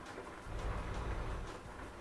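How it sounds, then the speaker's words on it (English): Steady rain pours down in the trucking game Euro Truck Simulator 2, a faint, even hiss of falling water with a low rumble swelling briefly in the middle. "rain is coming down properly"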